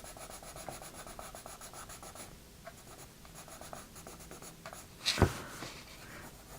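Colored pencils shade across paper in steady, soft scratchy strokes, a light rhythmic rubbing that continues close up, with one brief louder scrape or knock near the end.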